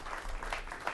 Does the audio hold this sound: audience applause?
yes